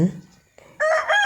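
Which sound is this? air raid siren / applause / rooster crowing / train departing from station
rooster crowing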